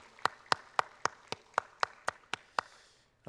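In a church service, about ten sharp, evenly spaced claps ring out clearly at a steady rhythmic beat, each crisp and distinct, before a brief pause and the start of a voice.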